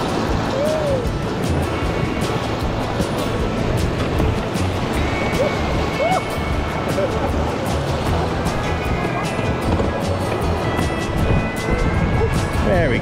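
River rapids rush around a raft on the Colorado River in Ruby Horsethief Canyon, a loud, continuous, close roar of churning water with voices faintly underneath.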